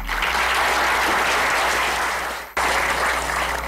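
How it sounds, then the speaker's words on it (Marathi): An audience at a homeopathy clinic presentation breaks into loud, sustained clapping, broken by a brief abrupt dip near the end before the applause carries on. "टाळ्या"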